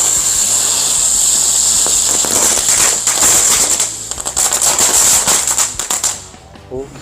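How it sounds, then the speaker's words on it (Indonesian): A lotus flower firecracker spins like a top, giving a steady, bright sizzling hiss scattered with sharp crackling pops that thins out and fades near the end. "Selanjutnya ini kita nyalakan mercon bunga teratai, merconnya bisa berputar seperti gangsing"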